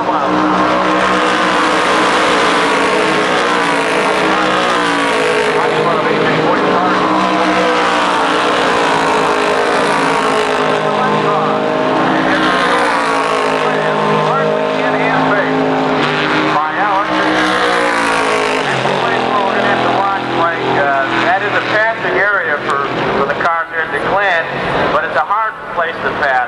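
IROC race cars at speed at Watkins Glen in 1989, engines roaring continuously and shifting pitch as cars pass, heard under steady commentator talk throughout.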